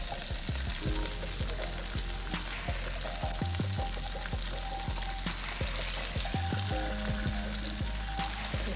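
Pork chops fry in a greasy pan with a loud, continuous sizzle and crackle, dotted with small pops and the occasional scrape of the pan. No talking is heard.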